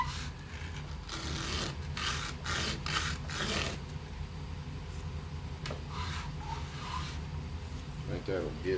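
Sandpaper rubs in short repeated strokes against a small plastic part of a toy mission control panel, the rasping bursts close and fairly loud, with a few pauses between passes.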